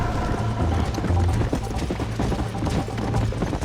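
Steady rhythmic pounding of galloping horse hooves in the video game Red Dead Redemption, with a mechanical rattling undertone, continuous and fairly loud, no voices.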